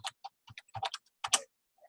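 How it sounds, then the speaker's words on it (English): Typing on a computer keyboard while entering a letter in a word processor: bursts of quick, close key clicks in uneven clusters with short pauses, no talking. "You're typing the letter."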